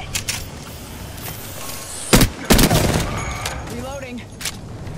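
Gunfire crackles in the Apex Legends battle royale game, a steady patter of distant shots with two louder close bursts in the middle, while a voice speaks briefly near the end.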